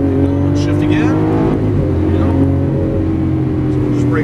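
A green 2012 Lamborghini Aventador pulls away on a Las Vegas race track, its engine a loud, sustained rising drone with tonal harmonics, while people talk over it.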